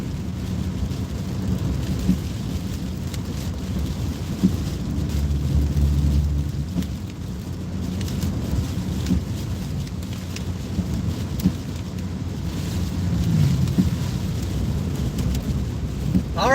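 Approaching thunderstorm: low rolling thunder rumbles beneath a steady hiss of rain, continuous and fairly loud throughout.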